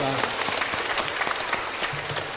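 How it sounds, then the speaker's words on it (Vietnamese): A Catholic church congregation gives a round of applause in thanksgiving, steady dense clapping from many hands filling the brief moment. "Xin một lần nữa chúng ta cho một tràng pháo tay để tạ ơn Chúa và cảm ơn nhau"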